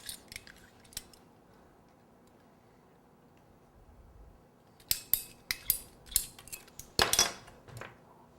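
Supports for a Valentine's Day cupcake tower being cut, giving a quiet spell followed by a burst of sharp, close clicks and snips in quick irregular succession, with no talking.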